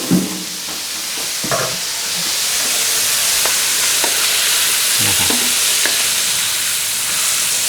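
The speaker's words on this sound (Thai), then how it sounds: "ทอดทีละล็อตก็ได้นะครับ" Shrimp deep-frying in hot oil over high heat for garlic fried shrimp, a steady loud sizzle and crackle running throughout with occasional sharper pops and clinks of stirring.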